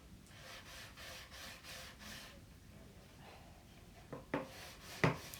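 A wooden Christmas decoration is distressed by rubbing or sanding, producing rhythmic, soft back-and-forth scraping strokes up close, then a few sharper knocks near the end, quiet and without talk.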